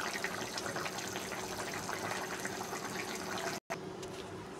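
Katla fish curry with ridge gourd and tomato simmering in a thin gravy, a steady close bubbling and hiss that runs without break apart from one brief cut near the end.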